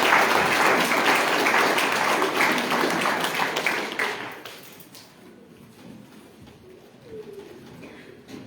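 A church congregation at an evening spiritual revival gathering claps loudly and steadily for several seconds, then the applause fades out into a quiet room.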